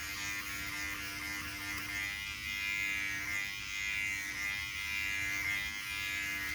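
A Voyor ES500 electric shaver runs continuously with a steady buzzing hum, close and moderately loud, its tone dipping slightly as it moves over hair, with no talking.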